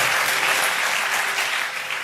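A church congregation bursts into steady applause in praise of God, a dense, even clapping of many hands sustained for a couple of seconds before easing slightly.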